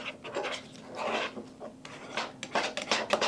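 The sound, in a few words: stirring and smushing powdered canned egg with water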